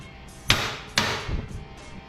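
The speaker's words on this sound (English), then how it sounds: "So we're just gonna give this a little love tap. I am using a small hammer." A small hammer strikes a wire stripping machine, likely a Strip Tec Model 1000 automatic wire stripper under repair: two sharp, close metallic taps about half a second apart, with a fainter knock after them.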